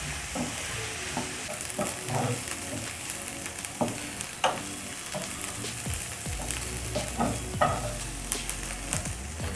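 Coriander stems and softening onions sizzle in a pan while a utensil stirs and scrapes through them in irregular clinks and swishes, a steady frying hiss running underneath throughout.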